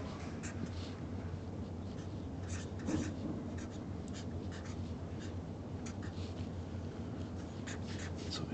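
A pen scratches on paper in short strokes and bursts while a chemical reaction is rewritten, close but quiet, over a steady low background hum.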